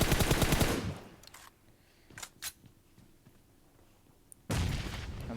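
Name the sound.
gunfire in the video game PUBG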